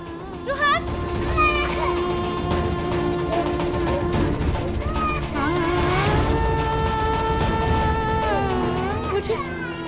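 A small child named Ruhan cries in a Hindi television drama, with wavering, rising and falling wails coming and going over a busy background of other sounds.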